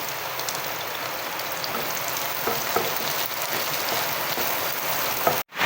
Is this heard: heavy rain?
yes